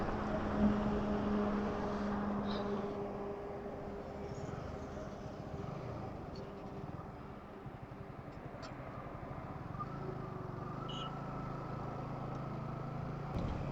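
Steady drone of a motorcycle engine while riding, with wind rushing past the microphone, continuous and fairly loud.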